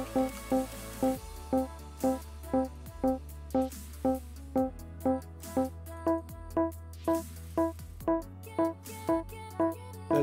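A steady stream of even, synthetic notes repeats at a brisk regular pulse, with a low sustained tone shifting pitch underneath every couple of seconds.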